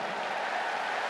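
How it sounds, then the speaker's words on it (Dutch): Applause from an audience at a big birthday concert in the Ziggo Dome, a steady dense wash of clapping that holds at a moderate level without any gaps for the whole brief moment. "Voelt lekker, hè, dat applaus"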